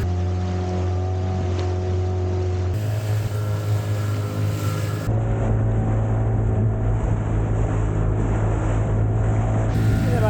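A small fishing boat's outboard drones steadily offshore as the hull half-planes at 6.5 knots, with water rushing against it and a constant engine hum throughout.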